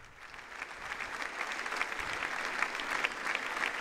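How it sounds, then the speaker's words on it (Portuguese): Long, warm applause from the assembled audience welcoming Pope Francis at the Belém Cultural Centre in Lisbon, a broad clapping crowd that swells gradually and stays strong throughout. "Um longo aplauso, caloroso aplauso dos presentes ao pontífice"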